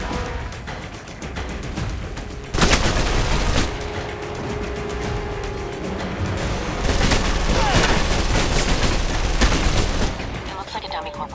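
Gunfire in the video game Alpha Protocol: repeated sharp shots and bursts from a firefight, loud and close, with heavier volleys crowding together partway through over steady battle noise.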